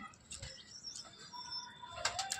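Pigeons feed nearby, with brief bursts of wing flapping and soft cooing and chirps, moderately close in an outdoor setting.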